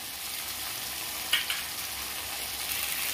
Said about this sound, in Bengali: মশলাটা আমি খুব সুন্দর করে ভেজে নেব, যেন কাঁচা মশলার গন্ধটা চলে যায়